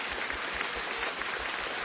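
Sustained round of applause from an audience, steady and dense throughout, moderately loud with no voices over it.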